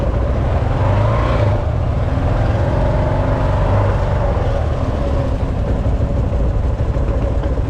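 A troubled motorcycle engine held at raised RPM by its rider, a steady loud drone with slight pitch shifts running through the whole stretch without a break.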